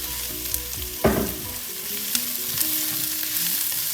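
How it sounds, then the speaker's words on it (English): Peppers and onions frying in a pan for a beef stir fry, a loud hiss as the vegetables drop in, then steady close sizzling with spatula scrapes and clinks. "So guys, we are going to get our vegetable into the pan at this time."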